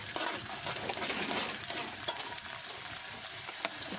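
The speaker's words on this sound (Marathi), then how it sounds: "कांदा हलकासा भाजून घ्यायचा" Onions fry in oil in a kadhai over a village wood-fired chulha, a dense continuous sizzle with light stirring scrapes close by, no talking.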